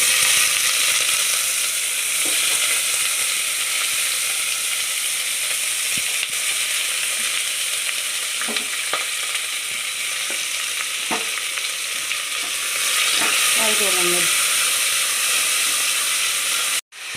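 Whole spices such as cloves and cinnamon sizzle in hot oil for a cauliflower 65 biryani, a loud, constant frying hiss with a few faint clicks and scrapes and no talk, ending abruptly.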